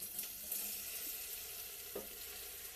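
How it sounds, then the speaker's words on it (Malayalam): Soft, steady sizzling of mustard seeds spluttering in hot oil with a few faint pops, close by and without talk. "കടുക് പൊട്ടിക്കാനാ"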